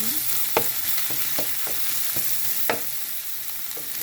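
Garlic frying in a pan, a steady close sizzle punctuated by several sharp scraping stirs of a utensil.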